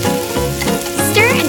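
Garlic, potatoes and carrots fry in oil in a tiny miniature pan, a crisp sizzle running under steady background music.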